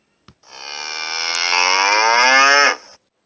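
A single long, loud cow moo, rising slightly and drawn out for about two seconds, close by with nothing else around it.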